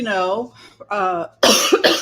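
Speech, then a harsh throat clearing, a couple of rough, close bursts of noise.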